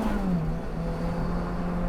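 A Lotus Elise engine hums at a steady, loud pitch from inside the car, the drone dipping slightly then holding, with no talk over it.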